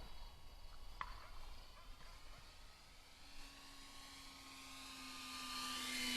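An E-Flite RV-7 radio-controlled model airplane flying at sunset, its electric motor a faint thin whine in the distance, with a rising tone that grows louder toward the end.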